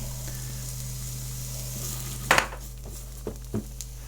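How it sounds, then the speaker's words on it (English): Chopped onions hit hot oil in a pan, a gentle continuous sizzle over a low hum, broken by a sharp utensil clink and a few lighter taps toward the end. "So bringing some oil up to heat, we'll put in the chopped onions"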